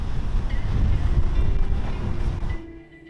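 A Nortec 390 powerboat with quad Mercury 350 Verado outboards rushes past during a poker run, a loud wind-buffeted engine roar that drops away abruptly near the end.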